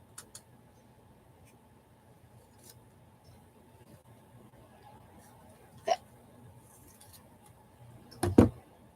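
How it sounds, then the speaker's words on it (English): A couple of short, sharp hiccups, one faint, a louder one midway and a strong pair near the end, over a quiet room background. "I got a little bit of the hiccups."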